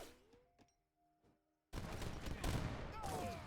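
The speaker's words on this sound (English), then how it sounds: "Now we see some organ guns here." Organ gun volleys in Age of Empires 3, heard as a burst of dense, crackling multi-barrel fire that erupts suddenly after a few quiet clicks and thuds, then rolls on loudly amid battle noise.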